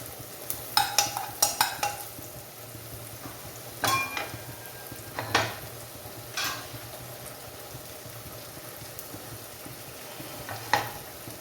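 Cumin and whole spices such as cinnamon fry in a hot pan for bone curry, a low sizzle running throughout under several sharp, close scrapes and clinks of a stirring spoon against the pan.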